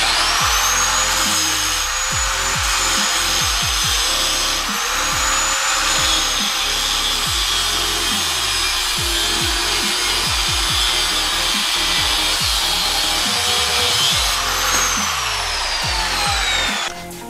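A power tool saw cuts lengths of steel flat bar in a workshop, grinding steadily and loudly throughout with repeated short bursts and pauses as each piece is cut, with a high whine above.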